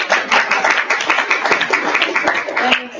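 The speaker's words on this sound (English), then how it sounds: "I think we're going to have applause" Scattered hands clap at a university area commission meeting, a small group producing uneven, fairly close claps over a few seconds.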